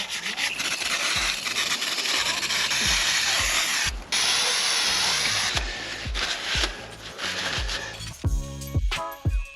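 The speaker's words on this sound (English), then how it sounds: "Old toothbrush to agitate some of dirt, make sure we get everything off." An old toothbrush scrubs a degreased Mercedes-Benz W205 C450 AMG brake caliper in fast, close, rhythmic strokes of loud bristle rubbing, with brief pauses and a few sharper scrapes near the end.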